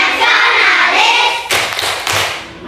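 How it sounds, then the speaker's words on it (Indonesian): Rhythmic PPK clapping by a class: sustained group chanting, then two close bursts of hand claps before the voices fade. "kita tepuk PPK bersama-sama ya"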